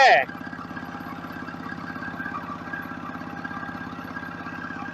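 A tractor engine in Thailand drives a generator, its steady, throbbing mid-pitched running heard close and continuous after a brief louder burst at the start.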